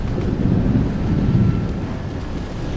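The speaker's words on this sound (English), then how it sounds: "it began to thunder, and the skies became dark." Thunder rumbling through a dark storm at a seaside cliff where huge waves crash, a dense continuous low roar with wind, steady and loud throughout with no clear separate claps.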